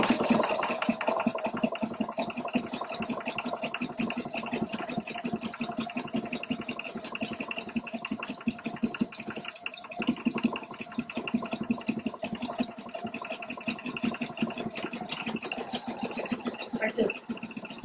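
A Pfaff Quilt Expression 720 sewing machine stitches a decorative pattern with a fast, steady needle rhythm and motor hum, close and continuous throughout.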